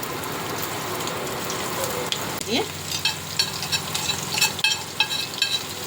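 Pieces of bitter gourd sliding into hot oil for a masala fry, a loud, dense crackling sizzle that bursts up partway through and keeps spitting and popping close by.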